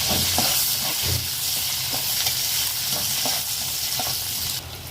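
Green chillies and garlic frying in hot oil give a steady, close sizzle and hiss throughout, with faint stirring scrapes and no voices.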